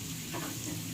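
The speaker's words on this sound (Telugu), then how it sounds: "వేసిన తర్వాత బాగా గోల్డెన్ కలర్ వచ్చేంత వరకు బాగా ఫ్రై చేసుకోవాలి." Chicken curry ingredients fry in hot oil until golden, giving a short, continuous close sizzle with no voices.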